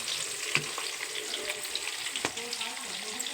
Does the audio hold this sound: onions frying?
yes